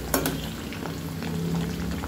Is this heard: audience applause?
no